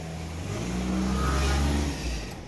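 A Yamaha V-Max motorcycle engine idles and revs briefly, a low steady mechanical rumble that rises slightly mid-way, heard close with no talking.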